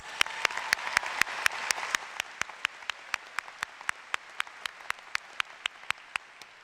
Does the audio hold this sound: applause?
yes